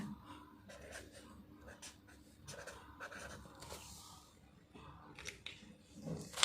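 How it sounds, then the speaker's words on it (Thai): Pen scratching on paper in quiet, soft irregular strokes close by, with short pauses between bursts of writing and faint rustling throughout. "เมื่อเช้าลืมเขียนให้เลยมาเขียนแล้วย้อนหลังให้"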